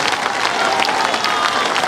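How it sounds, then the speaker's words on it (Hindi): Dense applause from a crowd at a political rally in Bihar, steady and fairly close with no pauses, filling the whole brief stretch. "जोर से बजाइए ताली।"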